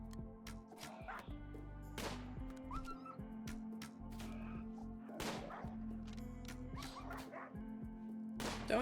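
A dog in the video game RimWorld barks while attacking, with short yips and sharp whip-like cracks over steady game music and a low hum, at moderate loudness throughout.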